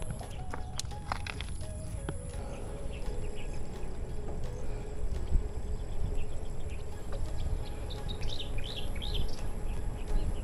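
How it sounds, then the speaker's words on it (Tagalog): Birds chirp along Daang Hari Road in the Philippines during a bike ride, short scattered tweets over a steady outdoor rumble of wind and road noise, with faint higher calls toward the end. "yung mga ibon"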